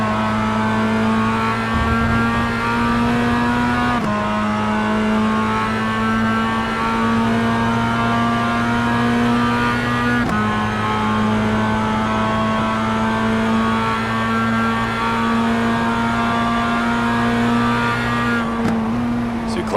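Sim racing roadsters lap the Catalunya circuit, a steady loud engine drone holding pitch with abrupt gear-change drops and rises throughout, cars running close together with tires sliding.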